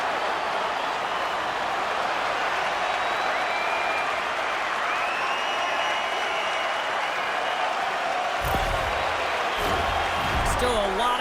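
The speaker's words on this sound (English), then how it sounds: "You can feel the energy in this crowd." Arena crowd noise in the video game NHL 26, a steady dense roar of cheering spectators that fills the whole stretch, with a few sharp knocks and thumps near the end.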